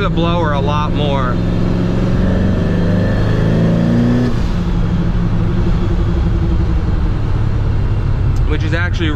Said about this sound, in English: Now you can hear a really nice sounding V8 and some of the blower noise.